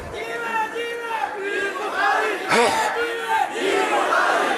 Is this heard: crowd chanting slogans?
yes